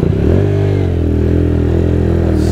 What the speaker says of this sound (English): Slam on both my brakes, sliding.